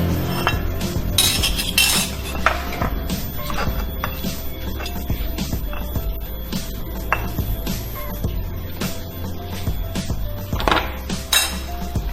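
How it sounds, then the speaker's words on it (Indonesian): Fried potatoes and garlic pounded in a stone mortar for an Indonesian home recipe: irregular sharp knocks and clinks of pestle on mortar, close and fairly loud, repeating throughout. "Kita ulek kentang gorengnya bersamaan dengan bawang putih."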